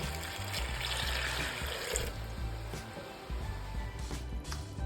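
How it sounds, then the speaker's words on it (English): Water running steadily into a pressure cooker holding peas for Jamaican stew peas, a close, continuous tap-like pour with a slight trickling edge, fairly even in loudness and heard alone. "We're also gonna add some water."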